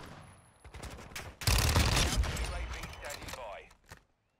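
The FENNEC submachine gun in Modern Warfare 2 fires a dense, rapid burst of shots, loud and close, trailing off into scattered gunfire amid game noise and talk.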